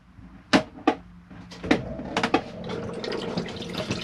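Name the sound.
Thetford toilet freshwater flush in a motorhome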